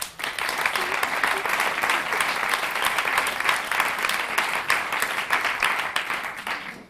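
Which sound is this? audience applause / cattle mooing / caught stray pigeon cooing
audience applause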